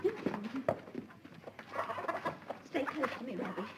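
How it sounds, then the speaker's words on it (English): Farmyard chickens cluck and chatter in short bursts, close by and mixed with a person speaking over them. "Robbie, you want to see the chickens you want to?"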